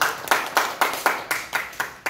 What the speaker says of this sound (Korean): 이렇게 박수 쳐. 박수를.